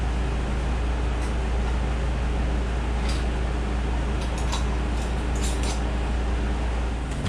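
Electric fan running steadily in a hot Florida summer kitchen during okra pickling, a constant broadband whoosh with a low hum, continuous and close throughout with no talk.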